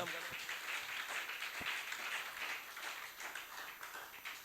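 An audience at a conference for unmarried people claps and cheers in praise of the Lord, a dense, steady wave of applause that fades slightly toward the end.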